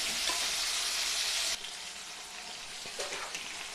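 Chicken pieces fry with onions in a pan, a steady close sizzle that drops in intensity partway through, with occasional stirring scrapes and no talking.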